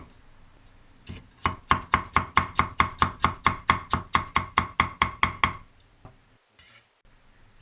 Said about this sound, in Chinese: 嫩生姜切成丝